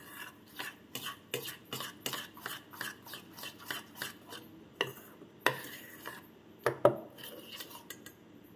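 Sugar is stirred in a pan to melt for sandesh, a spoon scraping the metal in a quiet, regular rhythm of short rasping strokes, with a couple of louder clinks near the end.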